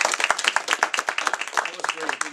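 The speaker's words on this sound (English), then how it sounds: "Let's give him another hand." An audience at a poetry reading claps in a dense burst of applause, sustained and fairly close, with scattered hands and a few voices mixed in.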